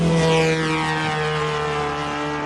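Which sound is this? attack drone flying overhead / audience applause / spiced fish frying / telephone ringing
attack drone flying overhead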